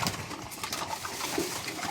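Pigeons coo in a loft housing several pairs, soft rolling calls repeating close by over a constant bed of bird sounds.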